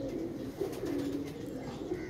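A pigeon coos close by in soft, low, rolling throaty calls repeated over a steady background hum.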